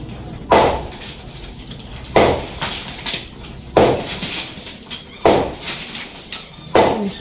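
Five heavy, evenly spaced hammer blows strike a concrete post being broken down by hand, each a sharp metallic impact with a short ringing decay and brief gaps between strikes.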